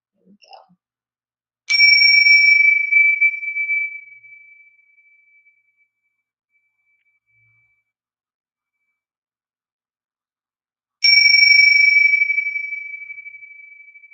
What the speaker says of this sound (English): So I'm just going to start today ringing this bell